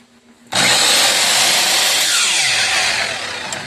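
Metabo 10-inch sliding miter saw motor switching on abruptly and whining at full speed, loud and close, with the pitch easing slightly toward the end.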